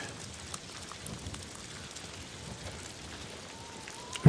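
Heavy rain in the video game Ghost of Tsushima, a steady even hiss of downpour holding at moderate level throughout, with a brief brighter sound breaking in at the very end.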